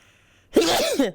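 A single sudden sneeze, close and loud, with a sharp intake and a forceful voiced burst that trails off after about half a second.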